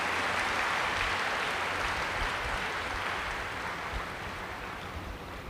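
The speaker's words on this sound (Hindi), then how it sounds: "ताली बजाएं जोर से" Audience at a spiritual gathering applauding loudly, a dense, continuous wash of clapping that fades slightly toward the end, with no voices over it.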